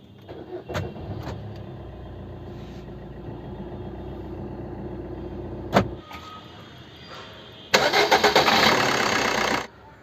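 Diesel engine started after a diesel filter change with fresh oil added and the battery reinstalled: quiet clicks and a low hum, a sharp knock, then a loud burst of cranking that catches and runs briefly before cutting off, heard close with no talking.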